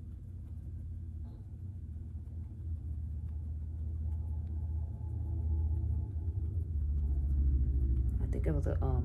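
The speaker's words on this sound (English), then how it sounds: "I think it was a motorcycle coming down the street." A motorcycle rolling down a street outside, a low engine rumble swelling steadily over several seconds as it draws nearer, with a brief rise in pitch at the end.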